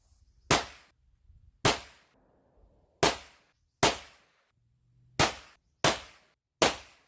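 Seven sharp semi-automatic pistol shots ring out in Red Dead Redemption 2, each a loud, crisp crack with a short decaying tail, spaced unevenly about a second apart with quiet gaps between.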